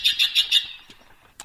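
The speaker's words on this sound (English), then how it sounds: "That's our mystery bird." Four quick harsh calls from a corvid in an even rhythm, fairly close and clear, followed by a pause with faint ambient noise and then one more short call.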